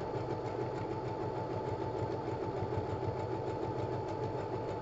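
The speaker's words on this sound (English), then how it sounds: "I'm just going to zigzag stitch it all the way around the edge." A sewing machine zigzag stitching around the edge of a pinked fabric piece, a steady, rapid mechanical whir and clatter running evenly throughout at moderate volume, with no speech.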